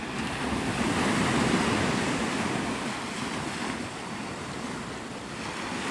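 Ocean surf at Navarre Beach in the Florida Panhandle washes in a continuous loud roar, with wind buffeting the microphone and a slow swell and ebb in the wave noise.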